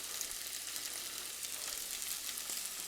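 A pork chop sears in a hot pan with a continuous bright, hissing sizzle close by, steady and even throughout, with no talk.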